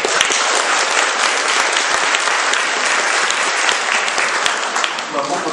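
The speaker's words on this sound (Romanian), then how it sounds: "Mă bucur că sunt oameni care mă aplaudă." Audience applauding at a ceremony in Bucharest's Palace of Parliament, dense and loud sustained clapping from a large crowd that carries on steadily before easing slightly at the end.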